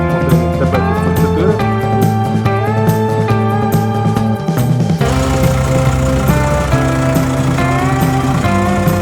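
A Chinese mini tractor's engine runs close by during a pre-sale check, a loud steady mechanical drone with a pulsing, tonal hum that continues throughout without speech.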